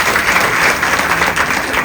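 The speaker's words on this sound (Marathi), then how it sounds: "एकदा जोरदार टाळ्या वाजवा." Loud applause from the audience at a memorial kirtan gathering, a thick continuous roar of many hands clapping at once, steady and close, with no voices over it.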